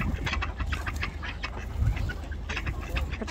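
Ducks quack on Lake Kaban in Kazan, with drakes among them, a busy run of repeated calls over steady outdoor noise and a slightly louder burst near the middle.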